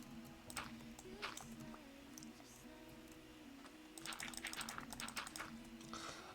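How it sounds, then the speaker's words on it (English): Faint, sparse clicks of a computer mouse during a Minecraft gaming session, scattered singly and in quick clusters under a quiet voice talking. "Sorry if you do hear the mouse clicking."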